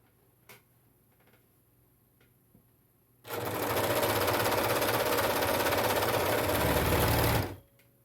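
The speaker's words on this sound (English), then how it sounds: "So now I'm going to move over to the serger and start serging this." A serger overlocking machine stitches and trims the edge of pillowcase fabric, starting after a few quiet seconds and running in a steady, loud mechanical whir for about four seconds before stopping abruptly.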